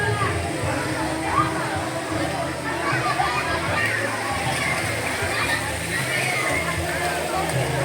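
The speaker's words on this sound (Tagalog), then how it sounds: "Ayan yung tubig ah. Ayan yung ilog." A steady, continuous rush of flowing river water nearby, evenly loud throughout, with faint voices murmuring beneath.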